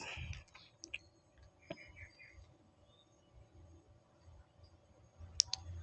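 Mouse clicks while changing computer settings to lock a profile: a few sharp, faint clicks scattered over a quiet background, with a louder pair near the end.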